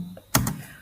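A single sharp keystroke or two on a computer keyboard, close and brief, with a quiet pause before it.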